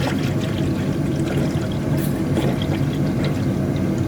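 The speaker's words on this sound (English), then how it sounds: "now I should be ready for some coolant." Coolant pours steadily into the cooling system of a Nissan S15, a continuous gurgling trickle of liquid at close range with no talking.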